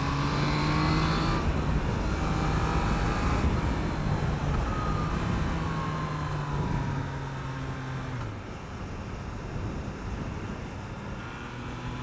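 A new Triumph Trident motorcycle engine pulls steadily on the road, its tone rising and falling through the gears, with constant rushing wind noise and no talking.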